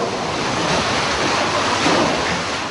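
Hurricane storm surge water churning below a hotel, with wind roaring over it, forming a loud, steady, broadband rush of surf and gusts that holds without pause.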